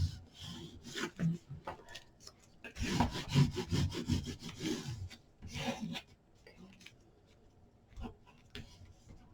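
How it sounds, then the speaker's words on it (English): Glue being smoothed out on a mini album: soft, close scratchy rubbing strokes in short rhythmic bursts, quiet, with pauses between passes. "Smoothing that glue out."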